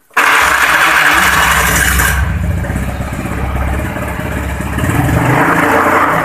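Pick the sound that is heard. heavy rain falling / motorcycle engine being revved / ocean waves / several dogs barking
motorcycle engine being revved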